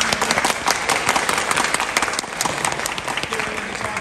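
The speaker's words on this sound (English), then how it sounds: "so let's give them a round of applause." A convention crowd at a cartoon-fan Q&A session applauds the guests, a loud, close, continuous burst of many people clapping that stays dense throughout.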